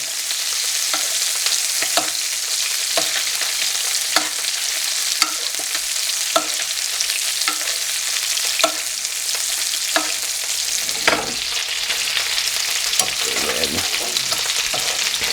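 Fish sizzling steadily in a hot pan, a dense continuous frying hiss with occasional louder spits and pops, close and loud with no talking.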